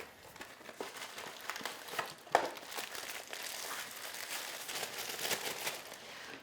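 Crinkly packaging of a boxed spice cake mix being opened by hand, a steady crackling rustle with one sharper crisp pop partway through, close and fairly loud, with no talking.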